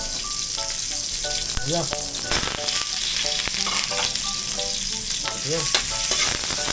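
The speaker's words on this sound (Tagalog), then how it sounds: "gisahin na natin yung ricado. Bawang." Garlic sautéing in a pan, a loud continuous crackling sizzle with spatula scrapes and clatters, a voice speaking briefly over the frying.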